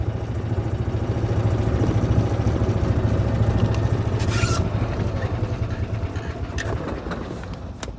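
Car driving up to the pickleball courts at Churchill Street Rec Center in The Villages, Florida, the morning after Hurricane Helene, a steady close engine and road hum with a low droning rumble and no talking.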